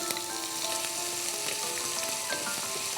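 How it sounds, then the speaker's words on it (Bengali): Chopped onions frying in a pot for vegetable pulao, with cloves already in the oil, give off a steady, dense sizzle with crackling pops throughout, close and moderately loud, with no one speaking. "আপু এই পর্যায়ে আমি দিয়ে নেব পেঁয়াজ কুচিগুলো"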